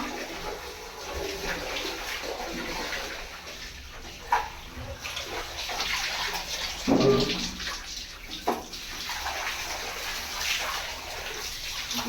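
Water is tossed out of a bathroom in Madurai where a snake is hiding, heard as splashes and gushes over a continuous watery wash, with one louder slosh midway.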